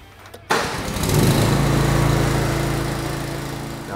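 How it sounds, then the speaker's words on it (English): A Honda GX240 gas engine on a gooseneck dump trailer cranks briefly and then catches, settling into a loud, steady, close-up running drone. "All you're gonna do is turn the key from off to start, and it's gonna crank right up."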